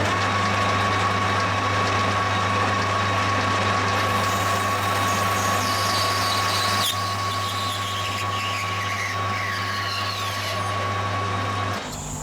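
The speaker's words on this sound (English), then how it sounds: "so you've got to run the lathe in reverse. Sort of medium RPM." A metal lathe runs in reverse at medium speed with an inverted parting tool, giving a constant mechanical hum and a steady high whine throughout, with a faint scraping sweep midway.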